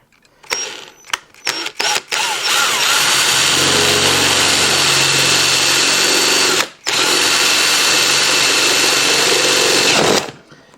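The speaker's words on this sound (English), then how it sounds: "I've been just using the drill to kind of route out the edges to get it there" An electric drill routs out edges in a workpiece for a DIY solar generator build, first in short loud bursts and then in long sustained close whirring runs with one brief stop.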